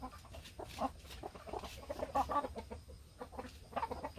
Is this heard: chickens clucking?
yes